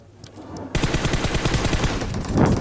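Automatic weapon fire in the mobile battle royale game PUBG Mobile: after a brief quiet lead-in, a rapid, loud burst of shots rattles on continuously for about two seconds, with no talking.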